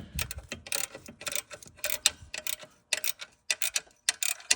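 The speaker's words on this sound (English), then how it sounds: "I'm going to tighten up them bottom ones first. Thank God for ratcheting wrenches." Ratcheting wrench tightening the lower exhaust bolts while replacing the catalytic converters on a 2011–2020 Dodge Grand Caravan or Chrysler Town & Country; a fast series of close, crisp mechanical clicks comes in bursts with brief pauses.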